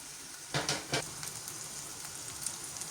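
Onion and curry leaves frying in ghee with cumin, a soft steady sizzle with a couple of louder crackling bursts near the start, fairly quiet and close.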